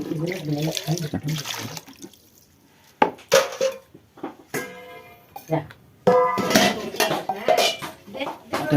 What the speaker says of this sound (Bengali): বালতি থেকে জল নিয়ে থালে দিচ্ছে থাল পরিষ্কার করতেছে